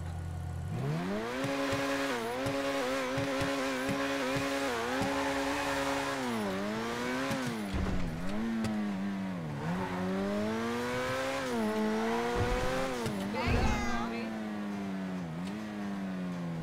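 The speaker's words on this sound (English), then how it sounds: "I think the Feltzer is actually a decent sounding car." A Benefactor Feltzer's engine in GTA Online revs repeatedly, its pitch climbing and dropping in a series of throttle blips and sweeps, loud and close with no talking over it.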